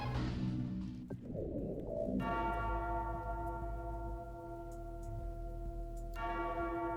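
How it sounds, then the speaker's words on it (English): Clock tower bells ring out in StarCraft, a long, resonant tolling with sustained harmonic overtones, struck once and then again near the end, over steady ambient hum and faint bird coos. "I like the clock tower bells."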